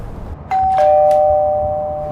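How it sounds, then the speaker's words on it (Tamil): Doorbell in the horror game Five Nights at Freddy's: Into The Pit, a loud two-tone electronic chime with a sustained ring that slowly fades, heard alone over faint room hum. "யாரோ காலிங் பெல் அடிக்கிறாங்க."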